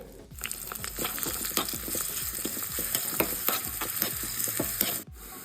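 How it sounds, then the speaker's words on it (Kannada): Garlic sizzles in hot coconut oil for a tempering, a dense, steady close-up frying hiss with crackling pops and stirring scrapes that stops abruptly at the end. "ಒಗ್ಗರಣೆ ಹಾಕೊಂಡಾಯಿತು ಒಗ್ಗರಣೆ"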